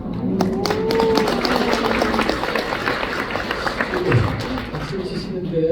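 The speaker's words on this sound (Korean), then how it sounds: "박수를 치시는데" Audience clapping inside a church during a parents' prayer gathering, a dense patter of applause mixed with crowd murmur and a speaking voice over it.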